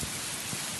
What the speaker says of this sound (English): the first cold drops of rain began to fall